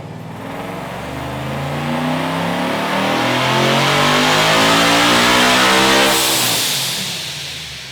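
A supercharged 2012 Ford Mustang Boss 302 with a Paxton 2200 supercharger roars through a full dyno pull, engine note climbing steadily in pitch and loudness for several seconds before backing off at the end.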